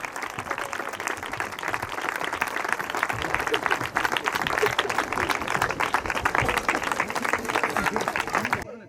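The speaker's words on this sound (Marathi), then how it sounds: "आपण जोरात टाळ्या वाजवून स्वागत करूयात" A crowd at a church ministry anniversary celebration applauds loudly and continuously to welcome a guest, with dense, sustained clapping and voices mixed in throughout.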